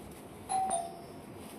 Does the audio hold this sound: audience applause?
no